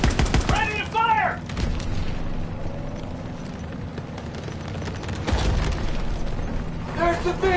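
Gunfire and explosions from the Call of Duty WW2 video game, with booming blasts and rattling shots under shouted in-game voices, in a dense, noisy battle mix.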